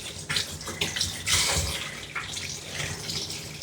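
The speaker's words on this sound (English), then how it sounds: "I'm going to rinse off his head, bring his head down." Running water rinses a dog's head during a bath, splashing in uneven gushes and surges with a louder burst midway, close and without speech.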